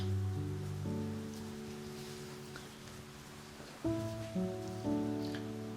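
Steady rain falling on a rainy day in Anglesey, a soft continuous patter heard under sustained tonal music with no talk.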